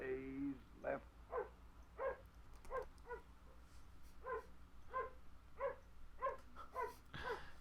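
A dog in a film gives a run of short whimpers and yips in an uneven rhythm, fairly close and moderately loud, with a voice briefly heard at the start.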